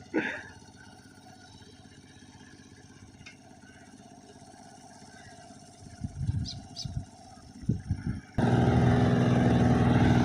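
Small farm tractor being driven by a beginner in third gear, a continuous engine drone with rough bursts of rumbling mid-way, then a loud steady hum near the end.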